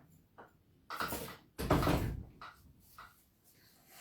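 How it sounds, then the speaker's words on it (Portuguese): A door being opened at home to let a cat in, with a couple of wooden knocks and creaks and a louder clunk of the door moving, then softer shuffling. "só um minutinho para eu abrir aqui a porta para essa gatinha aqui"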